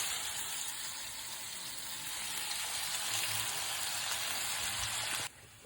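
Bacon frying in a pan gives a steady, dense sizzle that holds evenly at close range, then drops away abruptly just before the end.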